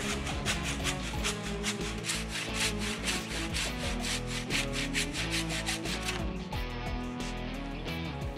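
A saw cuts through a wooden wall plate in a renovation, guided by a wood offcut used as a cutting template; fast, close, evenly spaced rasping strokes run for about six seconds before stopping.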